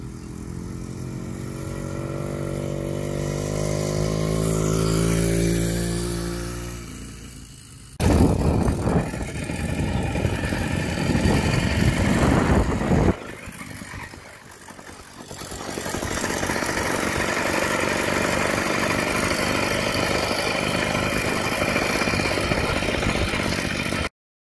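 Motorized bicycle built from a $95 Walmart bike, its small engine buzzing steadily while riding around, with a brief pause before the drone resumes strong and close throughout.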